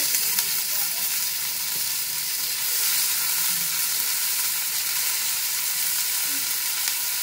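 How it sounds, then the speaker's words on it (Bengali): Chopped onion and tomato fry in oil in a pan for chickpea dal, a steady close-up sizzle with soft stirring scrapes, constant and fairly loud throughout. "পেঁয়াজটা টমেটোগুলো ভাজা হয়ে গেছে"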